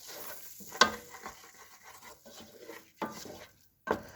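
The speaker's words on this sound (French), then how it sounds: "on rajoute la farine et on vient mélanger donc, pour réaliser notre roux" A whisk or spoon stirs flour into melted butter in a pan to make a white roux, with soft scraping and rubbing strokes and a few sharper knocks against the pan, close up.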